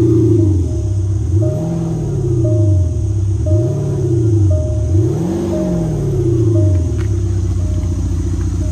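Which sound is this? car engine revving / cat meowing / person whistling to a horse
car engine revving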